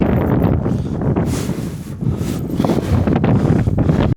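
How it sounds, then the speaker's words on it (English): Strong wind gusts buffet the microphone beside a lake, a loud continuous rumbling roar with surging gusts and brief lulls throughout. "the wind has been challenging"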